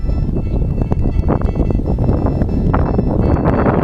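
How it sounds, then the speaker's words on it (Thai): Cold winter wind blowing outdoors in the countryside during the rice harvest, buffeting the microphone as a loud, steady, rumbling rush with slight gusts throughout, with no one speaking. "อากาศเย็นเนาะ มีลมพี่น้องเลย"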